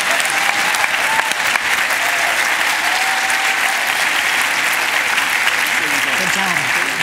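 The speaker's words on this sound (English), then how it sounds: "Can we give Applause, please," Audience applause at the Slow Money National Gathering, a dense, steady wash of clapping from a large crowd that stays loud and even for the whole stretch, with a few faint voices mixed in.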